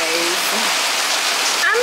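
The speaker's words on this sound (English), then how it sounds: "it's raining" Steady rain hisses down heavily and close, with a voice speaking faintly beneath the downpour.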